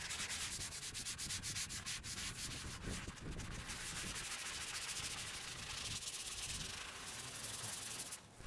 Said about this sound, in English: Back to hand sanding with a very fine 220 grit.